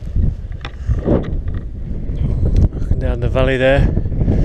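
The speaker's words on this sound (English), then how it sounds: "They were probably right when they said it was going to be windy." Strong wind on an exposed hillside near Woden Law roars and buffets the microphone with a heavy low rumble throughout, while someone talks over it.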